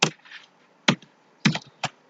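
A few separate keystroke clicks on a computer keyboard while entering text for a WordPress post, with short bursts spaced out and no talking.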